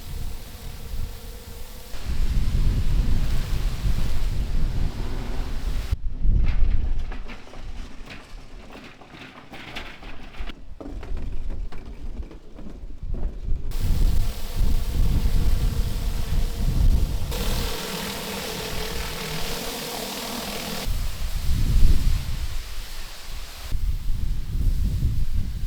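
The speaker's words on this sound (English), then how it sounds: "The hard work is done with a 21-inch flat surface cleaner with twin jets spinning just above the surface." A 21-inch flat surface cleaner with twin spinning jets works over a patio, giving a steady, loud hiss and roar with the tone shifting as it moves across the slabs.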